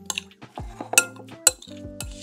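Metal utensil clinks and scrapes against a bowl while marinated poke fish is mixed with lemon juice and grated ginger, several sharp close-up clinks in an uneven rhythm with softer scraping between them.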